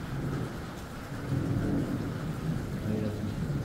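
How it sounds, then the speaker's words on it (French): Steady rain pours down in a continuous wash during a violent thunderstorm in the Drôme, France, with low rumbling thunder rolling underneath throughout. "S'il te plaît, la pluie, arrête-toi alors."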